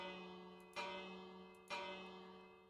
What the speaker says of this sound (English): the heavy bell went on from 6 to 7